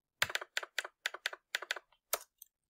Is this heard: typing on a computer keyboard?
yes